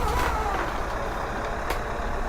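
A Scania 4 Series truck in Euro Truck Simulator, fitted with a sound mod, gives a steady low engine drone that holds evenly and loud the whole time.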